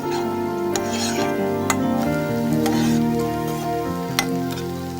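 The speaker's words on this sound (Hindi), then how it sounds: "प्याज हम सिर्फ ट्रांसपेरेंट होने तक ही भूनेंगे।" Onions fry in a pot until transparent, stirred now and then, giving a soft close sizzle broken by a few sharp clinks of a spoon against the pot.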